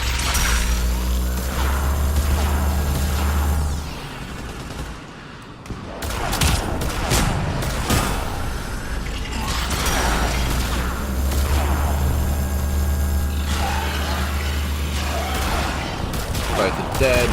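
Sustained gunfire bursts and crashing impacts during a combat firefight in the video game Mass Effect 3, loud and dense across the whole stretch, with a brief lull partway through.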